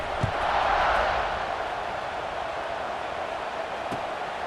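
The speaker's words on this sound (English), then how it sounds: "this crowd is buzzing after that last score" A football stadium crowd at the Texas Tech vs Indiana game buzzes after a touchdown. A broad, steady roar swells slightly early on, then holds as a distant, even wash of noise.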